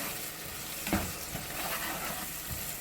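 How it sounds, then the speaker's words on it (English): A seasoning mix is stirred in a pan before steaks go in for a buttery steak dinner, producing a soft, close sizzle with a few scraping and clinking strokes and no talking. "Stir that up a little bit, and then we'll put the steaks in there."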